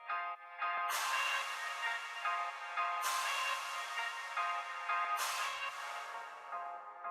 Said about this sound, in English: Sort of like a filtered reverb,